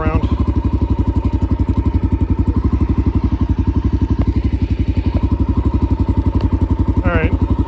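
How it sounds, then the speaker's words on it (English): Motorcycle engine idling in neutral with a camera mounted on the bike, a steady close pulsing throb running the whole way with occasional light clatter and thumps. "I'll put the bike in neutral"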